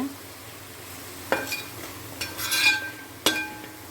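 Masala spices are stirred in a pan while frying for Thrissur-style beef, a soft steady sizzle with several sharp metallic scrapes and clinks of the spoon against the pan, close up and with no talking.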